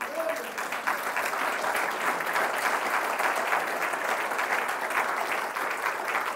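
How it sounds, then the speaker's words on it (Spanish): A church congregation applauds loudly for Christ during a Spanish-language service, a dense, steady wash of clapping from many hands that carries on throughout, with a voice faintly audible underneath. "Den un aplauso fuerte a Cristo."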